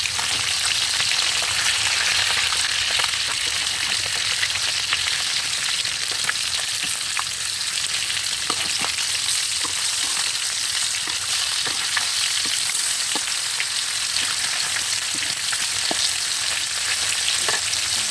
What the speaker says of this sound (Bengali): আব্বু, মাছ এখন উল্টাই দিতেছি